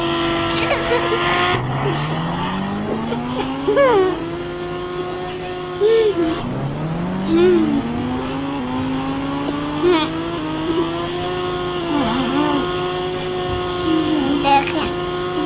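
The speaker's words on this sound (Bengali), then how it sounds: "দেখুন আমি এখন মোটর সাইকেল চালাই, দেখেন কত দূর যেতে পারে" A motorcycle is ridden in the video game GTA 3, its engine revving up in rising sweeps again and again with squeals and bumps between, while someone talks over the game sound.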